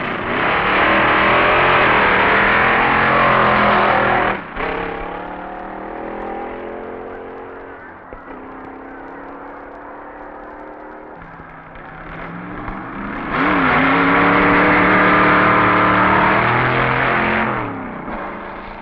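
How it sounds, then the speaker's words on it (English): At the 1961 NHRA Winternationals drag race, a B-modified roadster with an injected Chevy engine roars hard through a run, with loud blaring bursts of engine noise that fade and then swell again. "Here's a beautiful little B-modified roadster that's consistently a good performer"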